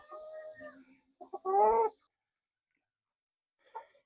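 A Lavender Orpington breeder hen nearing laying age gives a few short clucks and one louder drawn-out squawk close by, then silence and a faint final cluck.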